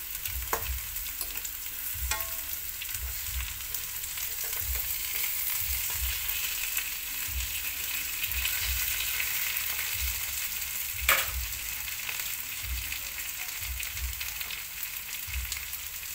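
A pork hock for humba frying in a pan, a steady close sizzle and crackle with occasional soft knocks as the meat is turned, no talk.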